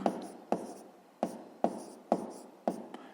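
A pen taps and scratches on paper while writing numbers in a fifth-grade math exercise, six or so crisp strokes in an even rhythm, close and fairly loud.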